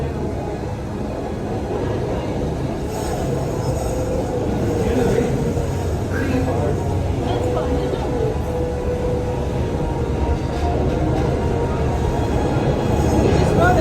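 Walt Disney Railroad train running between Fantasyland and Main Street stations, a loud steady low rumble of rolling wheels and carriage noise throughout, with voices talking over it.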